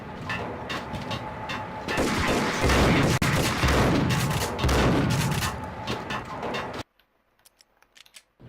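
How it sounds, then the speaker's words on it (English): Pump-action shotgun fire in the Xbox game Max Payne: loud, continuous gunfire and booming blasts, dense and chaotic, end abruptly into near silence with a few faint clicks. "Let's go ahead and go back to our pump action shotgun"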